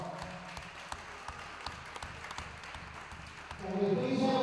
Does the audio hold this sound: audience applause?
yes